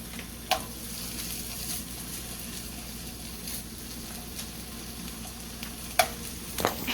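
Pork roll slices frying in butter in a pan give a steady, close sizzle throughout, with a few sharp pops and spatters standing out near the start and toward the end.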